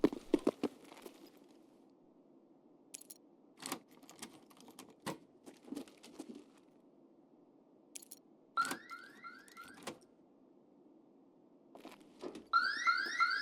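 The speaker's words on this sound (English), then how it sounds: "I forgot to turn off the alarm." An alarm in Escape from Tarkov sounds as a repeating electronic tone near the end, following scattered sharp clicks and taps over a faint low hum.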